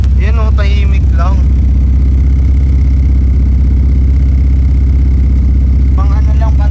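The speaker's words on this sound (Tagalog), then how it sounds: "Yung muffler, guys. Ganito yung gusto kong muffler. Yan, oh, tahimik lang." Motorcycle engine idling steadily through a quiet muffler, a loud continuous low rumble close by, with someone talking over it at the start and end.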